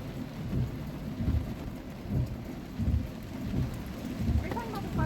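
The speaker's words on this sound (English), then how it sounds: "Rain, go away." Heavy rain pours steadily with low rumbles of thunder rolling through at intervals, a dense, continuous outdoor wash of sound with no speech.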